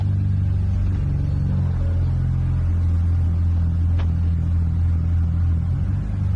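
A 1998 BMW E36 3-series with a new clutch and single-mass flywheel, its engine idling and rumbling steadily up close from inside the car, a low continuous drone with no voices.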